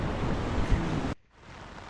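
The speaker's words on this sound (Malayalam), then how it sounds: "അങ്ങനെ അതാ മഴ പെയ്ത് കേട്ടാ" Steady, dense rain hiss close by, which cuts off abruptly partway through and leaves a much quieter background.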